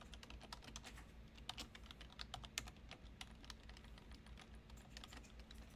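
A programmer types code on a computer keyboard while working in Blazor with the Native File System API. Faint, dense clicking runs continuously, with no voice, over a low steady hum.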